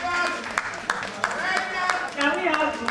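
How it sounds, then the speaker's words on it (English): Audience clapping for presenters at a crop production training session, scattered sharp claps over a steady wash of overlapping voices and chatter. "Please clap for them."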